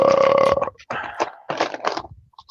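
A loud, drawn-out burp, deep and rumbling, is followed by a few rougher throaty bursts with short pauses between them. It sits close to the mic with no talking.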